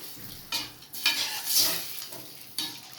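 A thick potato masala with added water bubbles and sizzles in a pan, with a few louder stirring scrapes breaking through the steady cooking noise.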